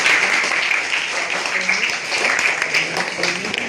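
Students in a university psychology department seminar hall applaud loudly, a dense steady wash of clapping that fills the room for several seconds, with some crowd murmur mixed in.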